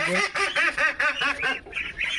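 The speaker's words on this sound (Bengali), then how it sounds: "আমি বাসার ভেতরে সব কাজগুলো গুছিয়ে বাইরে এসেছি হাঁস মুরগি ছাড়তে।" Ducks in a yard giving a rapid run of about eight loud, close, nasal quacks or honks in a steady rhythm.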